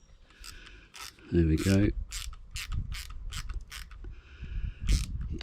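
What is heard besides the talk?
screwing and tightening a part on a Yagi antenna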